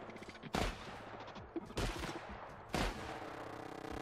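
Three heavy, separate shotgun blasts from the video game The Outer Worlds, each a loud booming crack spaced about a second apart, ring over a low ambient game backdrop.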